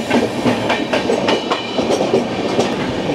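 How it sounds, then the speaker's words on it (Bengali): The 12124 Deccan Queen Express passing through Dadar station on the Pune–Mumbai run, heard from on board: a steady, close, rhythmic clickety-clack of wheels over rail joints with a rumbling undertone. "আর এখন আমরা দাদর স্টেশন ক্রস করছি।"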